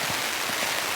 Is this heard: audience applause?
no